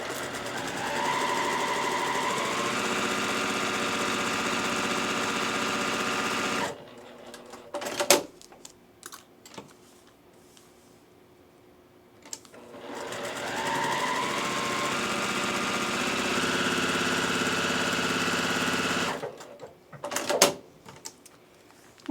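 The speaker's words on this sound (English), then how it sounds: "Now we will take our stack to our sewing machine and we're going to stitch on the dotted line." A sewing machine stitches through a stack of quilt fabric in two long, steady runs of fast mechanical whirring, each ending in a pause with small clicks and handling noises.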